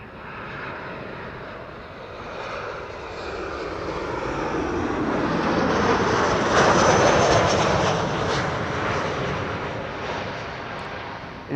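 Airliners arriving at Amsterdam Schiphol Airport on a sunny day roar in as a broad jet-engine rumble that swells to a loud peak midway and then slowly fades.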